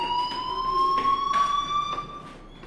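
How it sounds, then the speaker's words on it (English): A fire alarm rings in the video game Life is Strange, a steady high electronic tone with pulsing overtones, loud and sustained throughout. "Hey, do you hear that fire alarm?"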